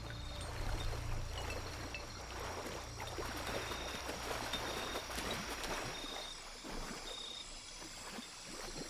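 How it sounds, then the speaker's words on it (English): Steady rushing water from waterfalls in Shadow of the Tomb Raider, a continuous even wash of falling water at moderate volume with no voices. "guess that is 3 waterfalls"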